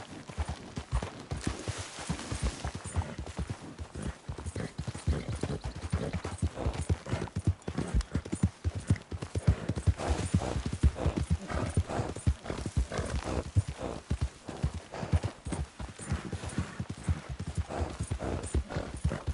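Horse hooves clip-clopping at a steady gallop in the Red Dead video game, rapid rhythmic thuds running continuously and loudly with an occasional whinny, no talk over it.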